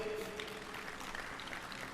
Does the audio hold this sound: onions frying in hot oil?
no